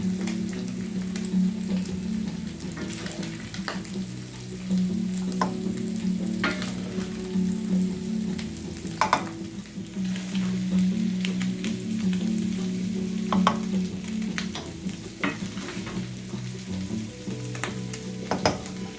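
Ground meat for chili being scooped into a pot, a loud, steady close sizzle and frying hiss with scraping stirring sounds throughout, alone without talking.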